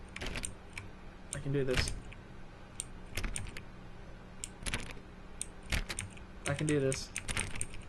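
Bursts of rapid mouse or key clicks during play of The Stanley Parable come in quick clusters with short pauses between them, close and fairly quiet, while a person speaks quietly over some of them.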